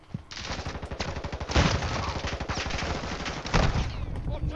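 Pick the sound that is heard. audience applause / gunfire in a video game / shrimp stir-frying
gunfire in a video game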